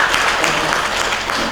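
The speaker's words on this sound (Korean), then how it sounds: "서로 자축하는 마음으로 박수 한번 볼까요?" Congregation applauding together at a Sunday church service, a brief, loud, continuous burst of many hands clapping filling the room.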